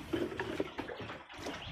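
Running water splashes at a pig farm, a short steady wash of liquid close to the microphone with no voices over it.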